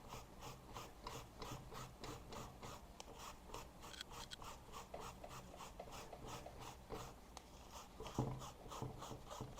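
A cloth soaked in acetone is rubbed in one direction over a DTF transfer, giving a very faint, close, rhythmic scratchy rasp of repeated strokes.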